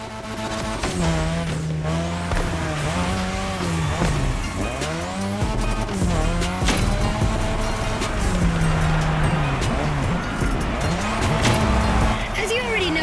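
Car drifting on a drift track in The Crew Motorfest video game, with a continuous loud engine revving and shifting pitch, tire squeal and skidding throughout, under music or background sound.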